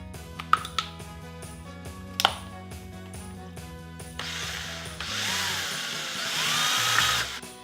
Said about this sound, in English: I need to drill a hole inside now and install this part